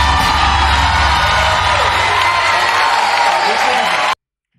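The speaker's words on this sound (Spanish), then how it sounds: "Esos aplausos se nota que no son enlatados." Loud studio audience applause with cheering and whoops on a live Spanish reality TV broadcast, sustained and dense, then cutting off abruptly near the end.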